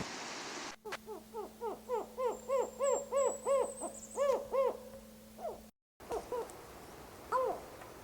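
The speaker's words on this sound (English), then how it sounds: "Spotted owl." A spotted owl hoots in a long, even series of rising-falling calls, fairly close over quiet background hiss, with a few softer hoots after a brief gap.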